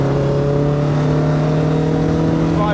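A Lotus Elise S1 sports car with a rear-mounted engine revs up to around 5,000 rpm from inside the cabin, a loud, steady harmonic engine note holding and climbing slightly over a few seconds.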